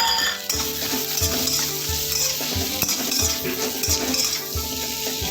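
Potato paratha filling is stirred in a hot pan, giving a steady loud sizzle under a spoon scraping and tapping the pan in a fairly regular rhythm.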